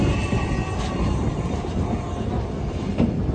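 Mithila Express sleeper-class train running, a loud continuous rumble and rattle of wheels on rail with rhythmic clatter, heard from inside the carriage with no talking.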